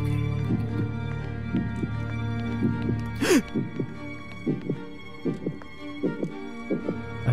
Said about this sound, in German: das Herzklopfen wird immer lauter